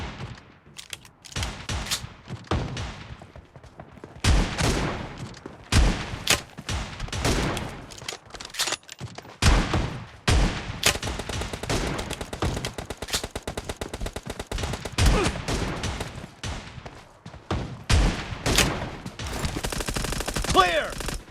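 S686 shotgun blasts in a team deathmatch video game, loud sharp booms fired in irregular bursts over about twenty seconds amid continuous battle noise.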